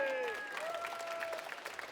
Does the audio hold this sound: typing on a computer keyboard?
no